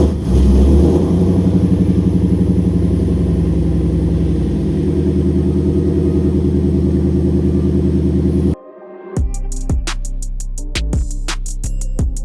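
A Ford Lightning pickup truck with freshly painted wheels idles loudly with a deep, steady engine drone, then the sound cuts and changes to a rough, lumpy rumble punctuated by sharp pops as it backs out.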